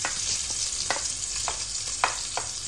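Garlic sizzles softly in a pan as the base for laing, a low steady frying hiss with a few sharp stirring scrapes spaced through it, close and without talk.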